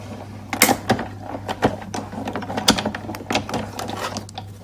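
A Big Shot die-cutting machine pressing paper through a solid die for a card, an uneven series of clicking, crunching mechanical knocks over a steady low hum, close and fairly loud.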